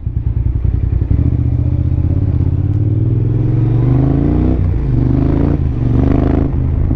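A 2003 Yamaha TDM 900 motorcycle engine drones steadily while being ridden, loud and close throughout, with a rising pitch toward the end as it builds revs and shifts.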